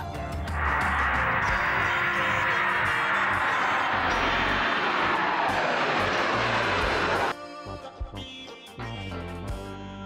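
Steady, loud airplane engine roar in flight fills most of the stretch as a dense broadband drone, then cuts off abruptly near the end, leaving quieter scattered sounds.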